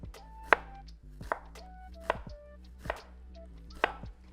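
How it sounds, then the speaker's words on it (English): Knife thinly slicing a Vidalia onion on a cutting board, five crisp separate chops at an uneven pace, close and clear with no talk. "So I'm just going to thinly slice my Vidalia onion like this."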